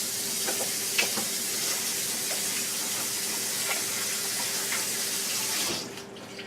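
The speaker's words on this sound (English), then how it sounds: "And then I'm going to wash my hands real quick." Hands washed under a running kitchen faucet during potato cooking prep, a steady splashing water stream with small clinks, ending abruptly near the close.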